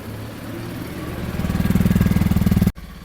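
A Kawasaki KLX 230 dirt bike engine idles nearby, a steady low thrum that grows into a rapid, even pulsing beat before cutting off abruptly near the end.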